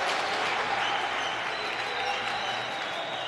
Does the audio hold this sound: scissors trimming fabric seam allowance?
no